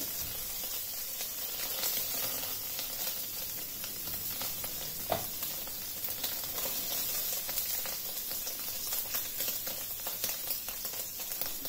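A marinated pork chop sizzles steadily in a hot pan after being flipped, a constant close frying hiss with a brief pop midway and no talking.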